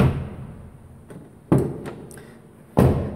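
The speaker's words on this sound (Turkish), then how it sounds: "Serçe parmağımla dahi kapıyı açabiliyorum." The rear door of a Peugeot 307 is worked open, giving a few short clicks and thuds from the handle and latch, with two sharper clunks standing out against a quiet background.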